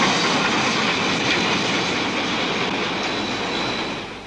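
Steam train hauling heavily loaded wagons along a mountain railway, a dense, loud rolling roar of wheels and cars that holds steady and then fades slightly at the end.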